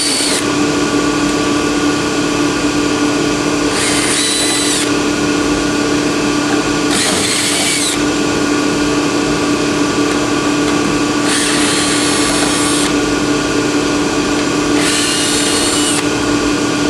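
A power tool running continuously while removing screws from a Laars boiler, a loud steady whir punctuated by four brief higher-pitched bursts of driving or grinding.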